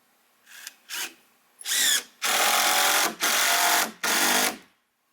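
A power drill drives long screws into a wooden gate in a series of whirring bursts, two short blips followed by four longer, loud sustained runs separated by brief pauses.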